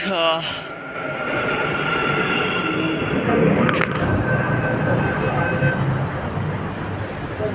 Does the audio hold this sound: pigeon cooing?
no